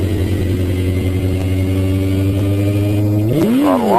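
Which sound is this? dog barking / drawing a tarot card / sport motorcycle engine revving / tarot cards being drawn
sport motorcycle engine revving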